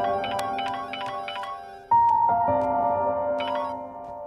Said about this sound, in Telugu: ఫోన్ రింగ్ అవుతుంది చూడవే